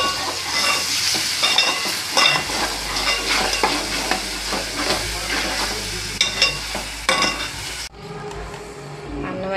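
Onions with ginger paste fry in oil for chicken curry, sizzling steadily while a utensil stirs and scrapes the pan in repeated clinks, before the sound drops abruptly near the end.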